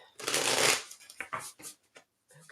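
A deck of oracle cards is shuffled by hand close up: one long riffle followed by several short, quick flutters of cards, with some soft speech-like sounds mixed in.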